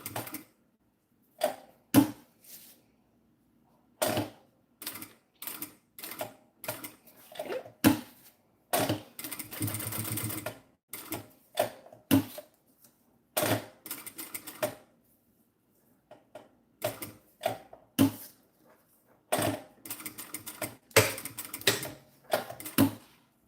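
A sewing machine stitches a bag in short, irregular bursts with pauses between runs, loud and close, mixed with brief handling noises.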